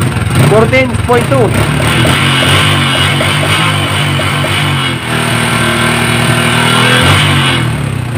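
A motorcycle engine with a charging fault, a new battery and regulator and no accessories revs repeatedly, close and loud, its pitch climbing and falling while someone talks over it and reads off numbers.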